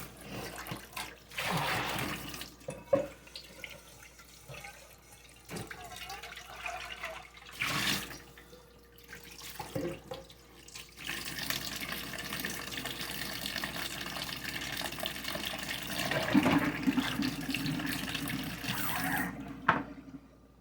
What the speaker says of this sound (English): I'm going to wash this out very quickly